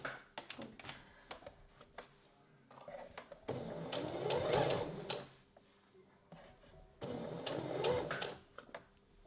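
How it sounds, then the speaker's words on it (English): A sewing machine straight-stitches a bra seam in two long runs of fast, even mechanical chatter, with quiet clicks and handling sounds between them. "So you're going to sew the seam with the straight stitch, which is perfectly fine for all your vertical seams on your bra."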